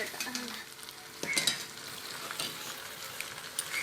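Karimeen pearl spot fish grilling in a pan with a steady close sizzle and spatter, plus a few clinks of utensils against the pan and no speech.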